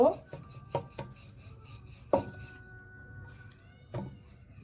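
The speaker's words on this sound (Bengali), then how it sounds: "এটা এখন ভালোভাবে বেলে রুটি বানিয়ে নেব" Rice flour dough being rolled into flatbread, a few sharp knocks and thumps of the rolling pin against the board at uneven intervals with faint rubbing between them, close by.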